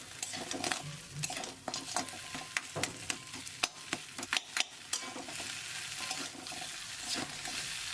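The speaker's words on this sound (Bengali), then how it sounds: "মাছের মাথা দেওয়ার পর 1 মিনিটের জন্য একটু নাড়াচাড়া করে নেব।" Fried fish heads being stirred through a spice masala in a pan, with a steady sizzle under repeated scraping and clinking strokes of a utensil against the metal, close and fairly loud with no talk.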